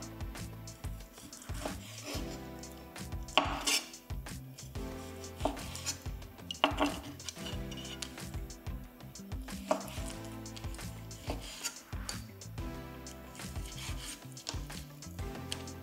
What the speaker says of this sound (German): Wir werden erstmal das Fleisch in mundgerechte Stücke schneiden und marinieren.